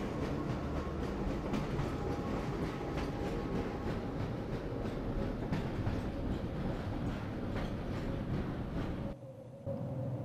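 A train in the Half-Life video game rolls along with steady rumbling and rhythmic rail clatter heard from inside the car, loud and continuous until it briefly drops near the end.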